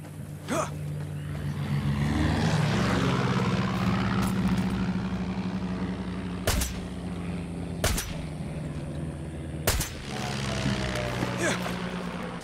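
A propeller plane in the video game Far Cry 6 drones steadily with a low engine hum throughout, while several sharp gunshots crack on top and a player talks briefly.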